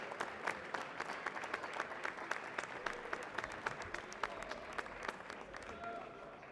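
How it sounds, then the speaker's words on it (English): A high school gym crowd applauds senior boys' basketball players and their families on senior night: steady, moderately distant clapping with sharp individual claps standing out, continuing throughout. "Please join us in one final round of applause for our Abington Green Wave senior basketball players"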